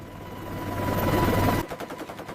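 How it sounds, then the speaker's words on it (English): A helicopter gunner with a U.S. Marine HMLA-169 squadron, flying low over water, fires a multi-barrel Gatling gun: a building roar of rotor and engine noise gives way abruptly to a rapid, stuttering burst of shots near the end. "the gunner fires the powerful multi-barrel cannon, a controlled burst of overwhelming force"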